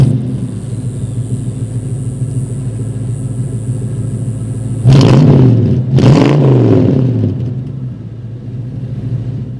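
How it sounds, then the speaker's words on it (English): A 1965 Mustang's 289 V8 rumbles steadily at idle, then two sharp throttle blips rise and fall in quick succession, the deep engine note swelling loudly before settling back to a lumpy idle. "So let's fire up that 289 V8 and go for a ride."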